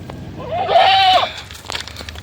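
A Kathiyawadi dairy goat gives one loud, close, wavering bleat lasting about half a second, followed by faint farmyard noise and a few soft clicks.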